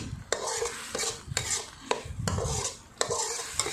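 Thai curry paste cooks in a pan for a spicy pad phet with fried pork belly and eggplant. A spatula scrapes in repeated sharp strokes over a soft, steady sizzle, close and with no talking.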